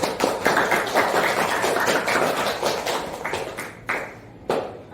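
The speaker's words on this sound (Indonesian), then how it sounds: "Tepuk tangan untuk kelompok 2." A classroom of students clapping for a winning group, a dense, fairly loud burst of hand claps that thins toward the end into a few separate sharp claps and taps.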